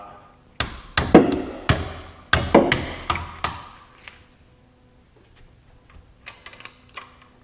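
A hammer strikes a differential cross pin bolt about eight times in quick sharp metallic blows, close and loud, and each ring dies away quickly. Lighter clinks and taps follow near the end.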